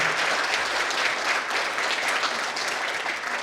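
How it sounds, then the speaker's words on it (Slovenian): Applause from the audience at a volunteers' reception, many people clapping steadily in a hall for a few seconds, evenly sustained and fairly close with no speech over it. "Si lahko en aplavz naredite."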